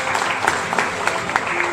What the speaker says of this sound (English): Please clap for that answer